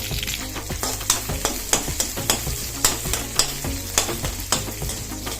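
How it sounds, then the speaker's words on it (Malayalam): Crushed ginger, along with green chilli, sizzling in oil left over from frying peanuts, for a poha dish. A spatula stirs it in a steady rhythm of scraping strokes over a loud, continuous frying hiss. "അതേ എണ്ണയിലേക്ക് നമുക്ക് ഇഞ്ചി ചതച്ചത് ചേർക്കാം"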